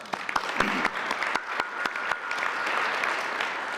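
An audience applauding workplace campaign participants at a United Way awards event, a dense burst of clapping with a few sharp individual claps standing out nearby.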